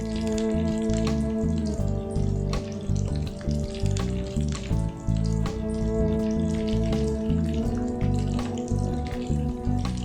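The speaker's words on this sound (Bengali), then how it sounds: "ফিঙ্গারগুলো যেহেতু আমি ডিপ ফ্রাই করব তাই পর্যাপ্ত তেল গরম করে নিয়ে পরিমাণ মতো ফিঙ্গার দিয়ে" Vegetable noodle fingers deep-fry in plenty of hot oil, giving a loud, dense, continuous bubbling crackle with constant popping throughout.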